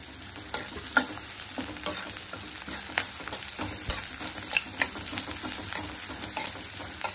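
Onions and curry leaves fry in a pan for a curd chutney: a dense, continuous sizzle with small crackles and occasional stirring taps, heard up close without speech.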